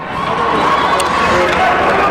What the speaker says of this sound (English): the crowd hollered